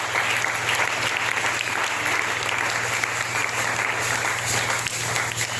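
A church congregation at a New Year's Eve service applauds the Lord in dense, sustained clapping, loud and even throughout, over a steady low hum.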